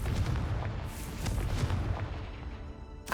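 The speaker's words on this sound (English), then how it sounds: "It wants me to blow it open. Confringo." A Confringo blasting spell goes off in Hogwarts Legacy, a loud rumbling boom that holds steady and then fades, closed by a brief sharp burst.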